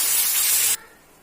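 Ginger paste for a ginger chutney hits a hot pan with a loud, broad hissing sizzle that holds steady for under a second, then drops abruptly to a faint residual hiss.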